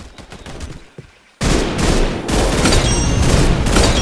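Bursts of video game gunfire from a G11 rifle, a brief volley, then a pause and a loud, sustained barrage of rapid shots lasting several seconds.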